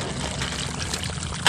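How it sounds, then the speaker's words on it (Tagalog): Water pours into a 16-liter knapsack sprayer being filled for herbicide spraying on a rice field, a steady close splashing gush with no talk. "maglalagay na ako ng tubig at saka herbicide sa"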